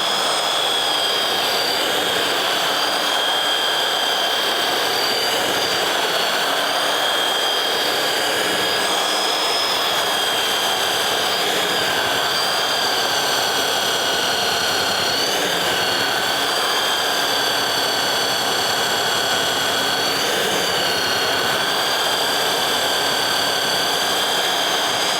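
Belt sander working along the side of a wooden ladder, a steady loud whining drone with a high-pitched tonal hum that runs continuously throughout, shifting slightly in pitch as the sander moves, with no talking.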